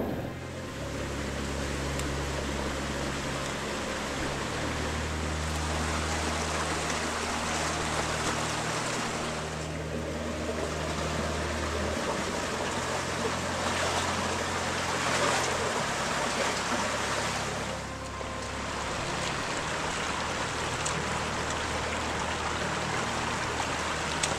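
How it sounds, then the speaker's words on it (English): Creek water flows through Alcatraz Canyon on the Newnes Plateau in the Blue Mountains. A continuous, full rushing wash sounds close and steady, swelling slightly and briefly dipping. "The flow of water was great"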